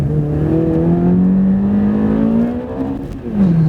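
A 2006 Ferrari 430 Berlinetta F1 engine revs loudly and steadily, its pitch climbing smoothly over several seconds, then briefly dipping and rising again near the end.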